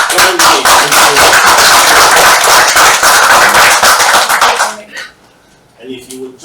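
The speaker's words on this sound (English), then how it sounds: "I want us to give him another round of applause." A crowd at a political gathering in Accra breaks into loud, dense applause that holds steady for nearly five seconds, then cuts off sharply as a voice begins speaking.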